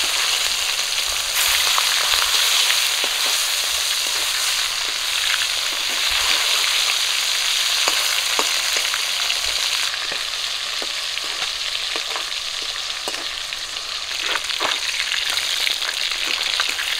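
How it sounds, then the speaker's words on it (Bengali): River foli fish frying in a pan, a loud continuous hiss of hot oil with sharp popping spatters throughout, close and steady with no talking. "বাকি মাছগুলো আমি একই রকম করে ভেজে নেব।"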